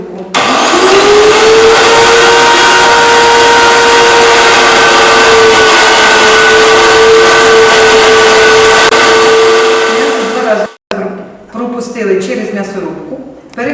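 A loud, steady mechanical whir from a meat grinder mincing poultry and pork runs for about ten seconds, then cuts off, leaving faint clattering and handling noises.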